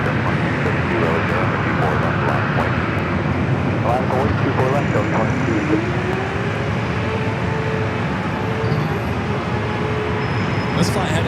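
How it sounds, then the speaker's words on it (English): Southwest Boeing 737-800 jet departing LAX for Chicago Midway, its broad engine roar steady and loud throughout, with a rising tone sweeping upward, while a voice talks over it. "This flight heading to Chicago Midway, flight 2268, a 737-800."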